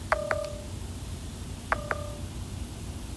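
Second phone nearby gives two pairs of short electronic tones about a second and a half apart, faint against a steady background hiss.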